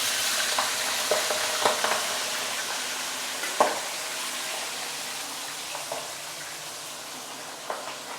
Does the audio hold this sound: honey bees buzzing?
no